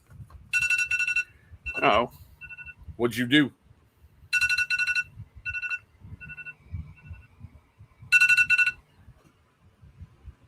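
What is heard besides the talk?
phone alarm ringing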